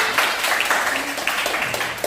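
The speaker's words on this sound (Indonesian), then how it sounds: "tepuk tangan dulu untuk Devi" Pupils in a classroom clap for a classmate, a short burst of scattered, uneven hand claps with a bright, close sound and some faint voices mixed in.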